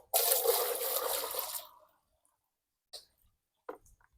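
Liquid poured into a home well, a brief splashing gush lasting under two seconds, followed by quiet with a couple of faint knocks.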